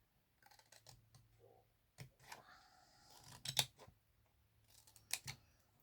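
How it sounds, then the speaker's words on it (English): Scissors snipping paper for a two-tier stepper box craft: quiet, close, intermittent clicks and short cutting strokes with pauses between, no talking. "I've got a piece there stuck to my scissors."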